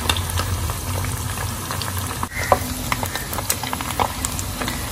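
Small anchovies frying in hot oil with curry leaves for a Chettinad fish fry, a loud, busy sizzle and bubbling with occasional stirring clinks close by, continuous without speech.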